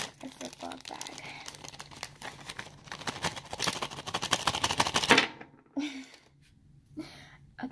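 Crinkly plastic of a resealable zip bag holding a small LPS toy figurine, rustled and torn open in a steady burst of close crackling, then a few quieter handling rustles after a pause, with a voice speaking briefly.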